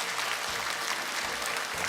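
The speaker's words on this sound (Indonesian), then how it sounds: "Boleh tepuk tangan semua hadirin yang sudah hadir di sini." Audience applause at a regional public debate, steady dense clapping from a seated crowd, moderately quiet and even throughout with no speech over it.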